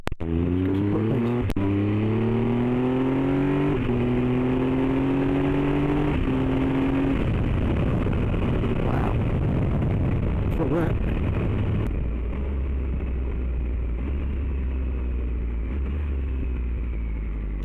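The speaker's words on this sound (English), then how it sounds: "That was from reasonable speed in fifth, right down through the gears with your left foot." Triumph Tiger 1200 XRT motorcycle engine dropping from fifth down through the gears at speed, revs blipping up and falling in stepped pitches over steady wind and road roar.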